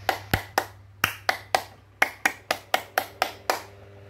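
Scout rhythmic clapping (tepuk pramuka): a dozen sharp, close hand claps in a patterned rhythm with short pauses between groups, performed alone over a faint steady hum.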